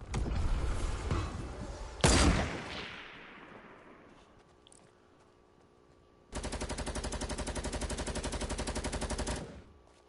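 Video game gunfire in Fortnite: a loud single shot cracks and rings out into a fading tail, then after a quiet gap a long steady burst of rapid automatic fire rattles for about three seconds before cutting off.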